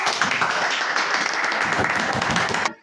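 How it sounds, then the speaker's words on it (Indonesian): Students applauding their classmates before a group presentation in an informatics micro-teaching class, a short dense burst of clapping that stops abruptly. "Tepuk tangan dong untuk teman."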